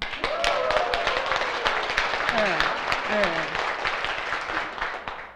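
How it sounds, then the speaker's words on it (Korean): An audience at a cosmetics company business presentation applauds the company president with dense, steady clapping lasting several seconds while voices call out over it. "요쯤에서 우리 대표님께 박수 한번 쳐주세요."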